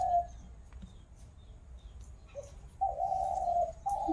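Doves cooing outdoors in a rural Sundarbans setting, with a short call early and then a longer sustained coo near the end, moderately close over faint background noise.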